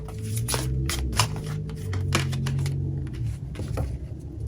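Tarot cards are shuffled in quick riffling bursts, a soft rapid flutter repeating several times over a steady low hum.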